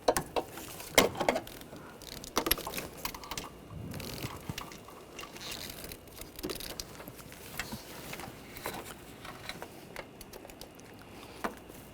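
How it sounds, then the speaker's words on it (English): Torque wrench tightening timing belt area bolts on a Honda Pilot V6 engine, a series of quiet ratcheting clicks and metallic mechanism noises in an irregular rhythm, fairly faint with no speech. "Now torque these bolts to 33 foot-pounds."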